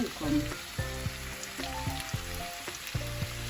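Mushrooms with potatoes and onion fry in a pan, a fairly quiet crackling sizzle like light rain running underneath steady tonal background sounds.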